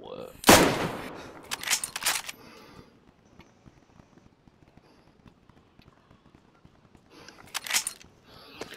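A Mosin rifle shot rings out sharp and loud near the start of a DayZ match, followed by a few quieter cracks and a later burst of distant shots, with sparse movement and footstep-like sounds between.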